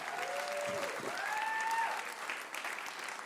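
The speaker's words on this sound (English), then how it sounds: "Give her a big God bless you clap." A church congregation applauds a 93-year-old woman, steady crowd clapping filling the space for a few seconds, with a couple of voices calling out over it.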